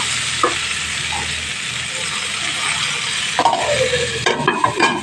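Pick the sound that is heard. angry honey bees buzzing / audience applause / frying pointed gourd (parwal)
frying pointed gourd (parwal)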